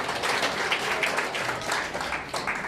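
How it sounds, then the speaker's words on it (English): An audience of school education staff claps for a few seconds, with loose, uneven bursts of applause rising and falling at moderate loudness. "Let's clap for them."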